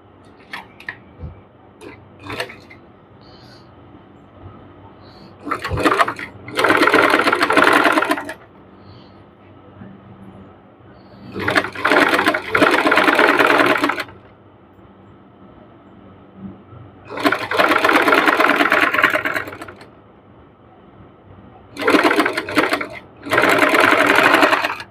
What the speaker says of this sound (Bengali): তারপর এই সাইডটাও আমি সেম ভাবে আমি সেলাই দিয়ে নিব এরকমভাবে